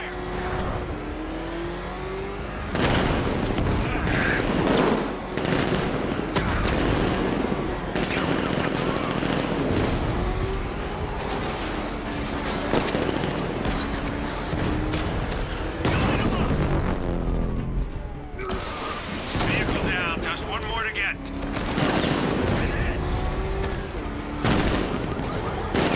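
Gunfire in Batman Arkham Knight, with dense bursts and rapid volleys running nearly throughout, loud and close, mixed with vehicle engine roar and occasional shouting.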